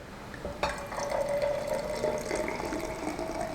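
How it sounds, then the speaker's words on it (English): Prosecco is poured into a cocktail glass, a soft, close liquid trickle with a faint rising tone as the glass fills, quiet and continuous. "you want to top it off with the Prosecco"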